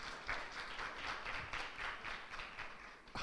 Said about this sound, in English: Another round of applause for the presentation.